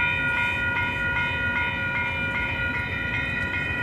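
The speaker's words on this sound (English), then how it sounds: "Another Amtrak overload here." An Amtrak passenger train passes on the BNSF line at 18th St and Lumber in Chicago, giving a steady close rumble with sustained ringing tones held for the whole stretch and no voices.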